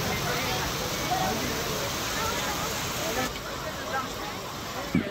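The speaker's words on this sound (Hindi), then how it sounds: "कितनी ज़ोर से यहाँ बाहर बारिश आ रही है" Heavy rain pours outside at the Garadia Mahadev site near Kota, a constant dense hiss filling the background while a crowd murmurs nearby.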